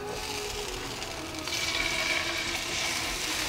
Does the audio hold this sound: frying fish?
yes